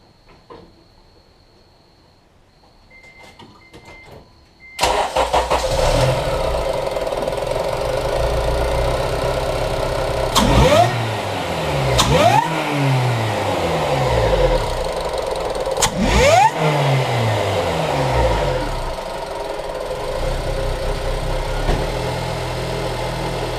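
After a quiet stretch, a supercharged Honda K-series engine with a MercRacing TVS supercharger cranks and fires up loudly, idles, then revs sharply several times with rising and falling pitch.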